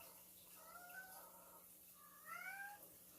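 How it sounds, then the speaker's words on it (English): Pet cats meow in a domestic room, two clear rising-and-falling calls about a second apart, moderately close over a steady low household hum. "you can hear my cats in the background, just meowing"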